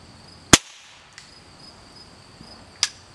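Two sharp gunshots fired over a cheap shooting chronograph, one loud crack near the start and another a few seconds later, with a faint tick between, outdoors and without talk.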